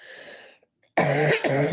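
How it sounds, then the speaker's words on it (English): A person coughs loudly a few times in close succession, with a brief pause between the harsh bursts, close to the listener. "excuse me, I have a chronic cough."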